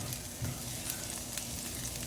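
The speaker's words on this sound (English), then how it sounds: "let's start by putting a little bit of oil and sauteing the garlic" Garlic sautéing in a small amount of oil for a Cajun shrimp and sausage pasta, giving a steady, close sizzle and crackle that runs evenly throughout with no talking.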